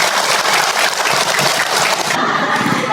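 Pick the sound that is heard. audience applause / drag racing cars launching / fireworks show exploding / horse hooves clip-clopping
audience applause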